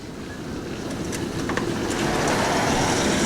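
Strong wind roars during a nighttime tornado storm in Sioux Falls, South Dakota, a steady broadband rush that builds slightly louder over the stretch with no voices.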